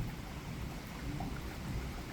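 Thunderstorm from a major supercell in Richmond Heights, heard as a steady broad wash of rain with low rumbling thunder underneath, continuous and fairly close throughout with no talking.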